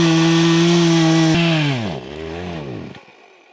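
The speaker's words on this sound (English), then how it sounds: "The chainsaw just took a dump" A chainsaw engine drones loudly in the woods, then its pitch sags and sputters down as the failing motor dies away.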